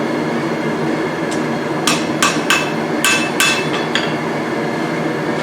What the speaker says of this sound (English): Go ahead and hammer that back in a little more.